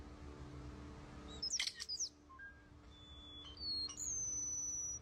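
European starling, a mimicking bird, giving a few sharp chirps, whistles and clicks, then a longer high whistled note near the end, fairly close over a quiet low hum.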